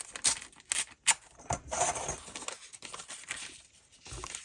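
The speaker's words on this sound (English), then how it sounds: "It's quite hard actually to rip deli paper, I find." Deli paper being torn by hand for junk journaling, giving a few short crinkly rips and rustles with pauses between them, close and fairly quiet.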